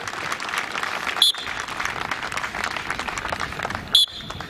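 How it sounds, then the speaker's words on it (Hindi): Audience applause at a CISF passing-out demonstration after a stone is broken with a hammer on a trainee's stomach, a steady dense clapping throughout with two brief sharp whistle-like bursts standing out. "दर्शकों द्वारा जोरदार तालियां बजाकर इसकी सराहना की गई।"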